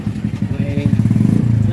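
A Yamaha Mio MXI 125 scooter engine idles close by with a rapid, pulsing putter, and a person talks over it.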